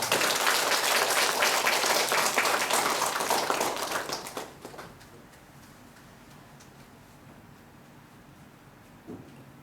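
Church congregation applauding during a Sunday worship service, dense clapping that holds for about four seconds, then fades out into quiet room tone with a faint knock near the end.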